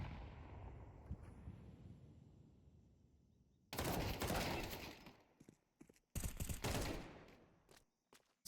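Gunfire from a competitive team video game match: a quiet stretch gives way to two heavy bursts of rapid automatic shots, separated by a short pause and a few scattered single cracks, with no talking.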